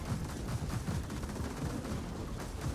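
Electric cannon firing in the TerraTech Legion video game: a dense, continuous barrage of rapid crackling, thumping shots at steady loudness throughout, with no pauses between bursts.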